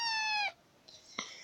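A cat meows once in a long, clear, high tonal call up close, followed by two short, faint squeaky mews; no talking.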